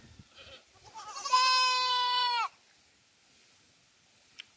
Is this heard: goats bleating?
yes